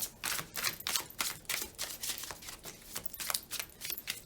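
A Twin Flame Journey Tarot deck being shuffled by hand, producing a steady run of crisp, papery riffling clicks close up and fairly loud, with no voices.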